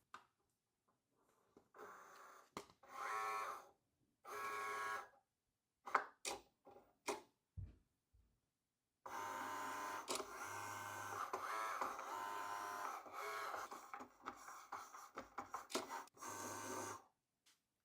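A Cricut Joy 2 cutting machine works through a practice sheet in a quiet room, its motor whirring in short bursts at first, then running in a long steady stretch of mechanical buzzing and ticking, fairly faint and close.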